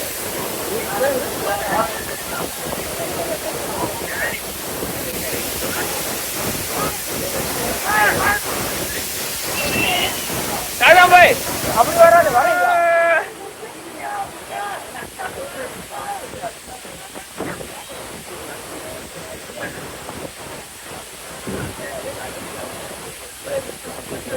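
A waterfall at Kanthalur roars as a steady broadband wash under people talking, with a short louder splash partway through before the rush drops to a quieter level.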